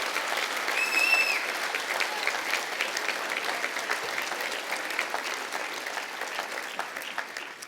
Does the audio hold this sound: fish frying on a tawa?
no